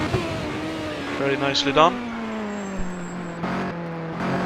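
1988 CART Indy race cars in the Marlboro Grand Prix, engines holding a steady drone, then one car lifts off the throttle as another passes, the pitch sliding down, with a commentator talking over it.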